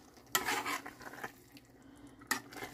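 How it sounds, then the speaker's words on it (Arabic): Béchamel sauce and a cooked chicken filling being stirred together in a pot, with quiet spoon scrapes and two sharper clinks against the metal, soft and close in a kitchen. "هلا بقلب فيهم"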